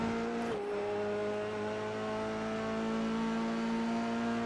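Car engine running steadily after an unintended two-gear downshift during a track coaching session, a sustained tonal drone with a sharp shift in pitch near the start, then holding even and loud with no talk.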